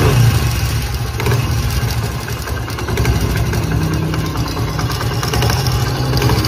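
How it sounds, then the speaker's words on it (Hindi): Car engine idling with a noisy timing chain: a steady, loud, close mechanical drone with a constant rattling clatter running throughout, no talk. "काफ़ी ज़्यादा जो आवाज़ है टाइमिंग चैन की वो आ रही है।"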